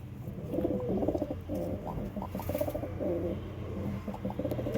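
Lombardy pigeons coo softly in repeated throaty phrases, several birds overlapping against a low background hum, with no talking.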